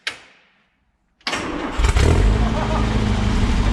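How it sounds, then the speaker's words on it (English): A choked straight-four engine on a Citroën 2CV-era classic car cranks briefly, goes quiet, then catches with a loud burst and settles into a rough, close, steady idle. "The thing I love most about these 2As is this straight four engine. I just think it's such a happy, perky engine."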